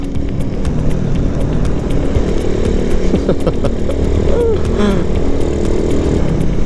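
A bicycle converted into a motorbike runs with a steady buzzing small-engine drone, loud and continuous throughout, with no talk over it.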